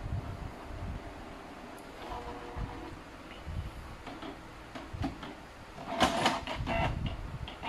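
A Canon MP237 inkjet printer running a test page, its faint mechanical whir and soft ticks steady throughout, swelling into a louder rattling burst of paper feed near the end.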